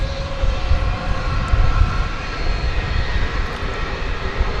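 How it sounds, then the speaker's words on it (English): An American Eagle Embraer 175 jet at DFW Airport, arriving from Springfield, Missouri, at night, makes a loud, steady engine roar that swells slightly midway and stays close with no voices. "It's an Embraer 175. It's American Eagle Flight 3490."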